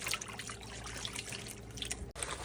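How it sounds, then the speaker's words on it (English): Running water rinses raw menudo tripe in a sink, a steady splashing flow with drips and sloshes close by and no talking. "You just keep cleaning it until the water comes clean."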